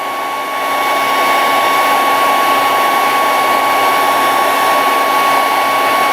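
A hairdryer blows with a loud, steady whooshing roar and a constant high whine, rising in strength during the first second and then holding unchanged without any talk.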